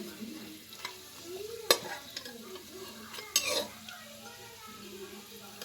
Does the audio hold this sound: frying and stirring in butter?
yes